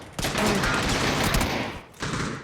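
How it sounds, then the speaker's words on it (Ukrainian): A rapid burst of video game gunfire, close and loud, then a brief gap and a second short burst. "стріляю."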